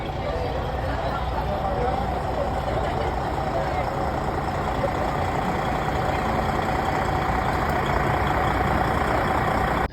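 A bus engine idles in a constant low, throbbing rumble that runs unbroken and fairly close, with people talking over it.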